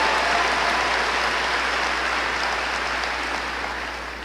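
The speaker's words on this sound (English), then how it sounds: "You can clap for Danny" Audience applause for Israeli ambassador Danny Danon at a Christians United for Israel gathering, a broad, even wash of clapping from a large crowd that fades a little toward the end.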